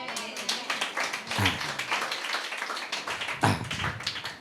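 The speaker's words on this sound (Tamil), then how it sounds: "கை தட்டுங்க." A church congregation claps hands together, a dense burst of many claps close by in a hall, mixed with talking voices.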